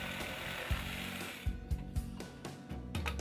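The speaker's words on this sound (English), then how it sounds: "Use a jigsaw to cut out the rough shape." A jigsaw cuts a rough curved shape from a southern pine board, a buzzing, rattling blade stroke that breaks into stuttering bursts and knocks as the cut ends.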